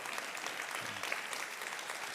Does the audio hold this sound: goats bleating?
no